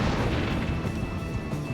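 A gatling swords attack by a ninja in Bravely Default HD, a dense, continuous barrage of rapid crashing hits with a bright metallic ring, loud and close with no talking.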